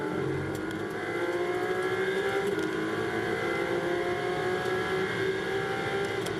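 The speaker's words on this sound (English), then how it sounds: "I just wanted to be quiet so you can hear the gear shifts in the engine" Ferrari Challenge race car on track at Monza heard from on board, a sustained high engine whine with rising and falling pitch as the driver works through gear shifts, loud and steady with no talk.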